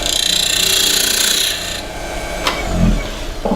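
Hand sanding and rasping on a wooden cryptex part, a steady close scratchy rubbing that stops midway, followed by a few light knocks and handling sounds.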